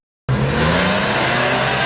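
A purpose-built BMW V8 race car engine, 440 horsepower and revving to 10,000 RPM, cuts in abruptly with a loud, sustained high-pitched shriek held at full revs.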